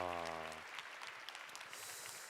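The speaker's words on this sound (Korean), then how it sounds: "야, 박수 한번 치시죠." A forum audience breaks into applause after a sustained tone fades, a soft patter of clapping from many hands that continues steadily, moderately distant and fairly quiet.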